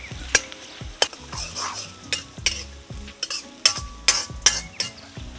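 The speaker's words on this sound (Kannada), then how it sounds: "ಒಂದು ದೊಡ್ಡ ನೀರುಳ್ಳಿ ಸ್ವಲ್ಪ ಹೊತ್ತು ಹುರಿಯುವ" Chopped onion, garlic, green chillies and spices frying in an outdoor village pan for paneer butter masala: a steady sizzle under close, repeated scraping and clinking strokes of a stirring spoon, with no voices.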